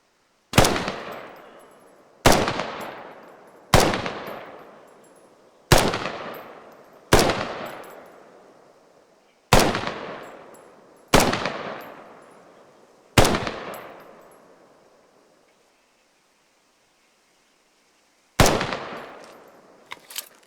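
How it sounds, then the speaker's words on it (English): A high-caliber designated marksman rifle fires in Squad, eight heavy single shots spaced a second or two apart, each with a long echoing tail, then a pause before two more shots. "Designated marksmen are issued with a high-caliber rifle designed to reach out and touch the enemy from further ranges than a standard issue rifle"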